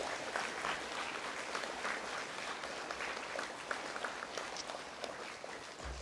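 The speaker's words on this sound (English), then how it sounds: "Let's give them a clap." Warm, sustained applause from a school audience at a junior school celebration of learning, a soft, even wash of many clapping hands heard from a distance throughout.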